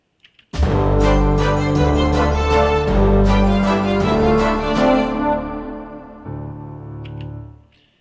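A full orchestral arrangement of a song enters after two soft taps, with layered strings and low brass swelling into loud, sustained chords. It thins out near the end and then fades out, with no voices.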